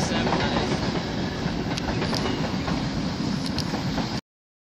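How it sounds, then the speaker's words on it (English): A class 390 train departs Wigan North Western on a London Euston service, its wheels rolling with a steady rumble and clickety-clack close by. The sound cuts off abruptly near the end. "departing Wigan North Western with the 1809 Glade service to London Euston is 390134"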